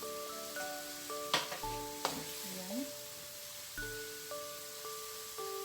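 Vinegar poured into a pan of cooking string beans adobo brings a steady sizzle and crackle with a couple of sharp bursts, heard under a sustained musical backing.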